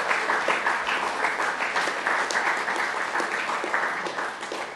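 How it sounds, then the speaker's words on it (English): An audience claps for presenters at a media research talk, a full, steady round of dense applause lasting several seconds and tapering slightly toward the end. "Let's give a nice round of applause to our presenters."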